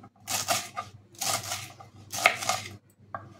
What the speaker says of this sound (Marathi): बारीक बारीक आपल्याला ती कट करून घ्यायची आहे।